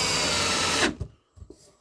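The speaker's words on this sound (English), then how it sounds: "drill down to the wood here." A power drill bores into wood in one continuous whirring burst lasting under a second, then cuts off, followed by a few faint knocks and handling sounds nearby.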